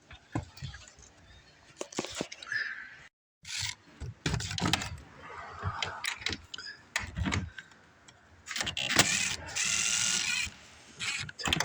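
Ratchet wrench backing 10 mm nuts off the tail light studs of a Ford Fusion, close, quiet clicking bursts in short irregular runs with gaps between.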